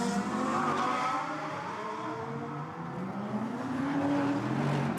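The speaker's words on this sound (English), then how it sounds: "you do hear the tyres screech as they brake and accelerate over there" GT race cars pass at a distance during pre-qualifying for the SRO GT Cup in Beijing, tyres screeching under braking and engines whining, a continuous wash of motor noise rising and falling.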